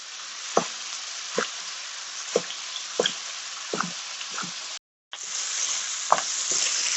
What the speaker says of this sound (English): My garlic and onions are browning very nicely.